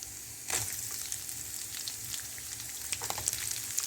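Tamarind, ginger and garlic sautéing in a pan give a soft, steady sizzle with a few faint stirring scrapes, quiet and close, with no voices.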